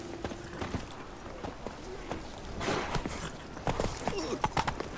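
Hoofbeats of Roach, the horse in The Witcher 3 game, galloping in a steady clip-clop rhythm at moderate loudness against a low background.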